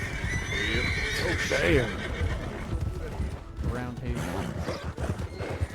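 In a Wild West roleplay video game, a horse whinnies loudly and hooves clip-clop on the ground while someone talks over them.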